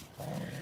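Dogs indoors let out a short, faint growl or whine lasting under a second, low and close to the room.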